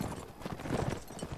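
Horse hooves clip-clopping in the medieval combat game Mount & Blade: Warband, a dense run of close, steady hoof beats mixed with battle din and no clear speech.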